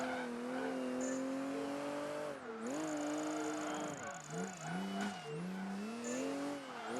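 A car in the Project Gotham Racing 3 video game, in a Tokyo event, revs continuously with its engine pitch rising and dipping through gear changes while tires squeal and slide through corners.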